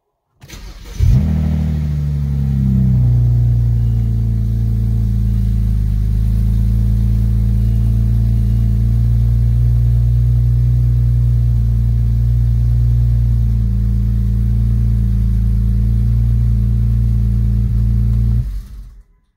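A BMW 335i with the N54 engine, freshly tuned with MHD Stage 1, cranks and fires, then settles into a steady, loud, close idle with a deep low rumble that holds unchanged until it cuts off.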